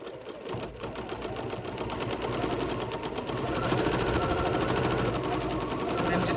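A BERNINA sewing machine stipple stitching through faux fur, its needle running in a fast, steady mechanical chatter that holds loud and close for the whole stretch, with a brief voice near the start.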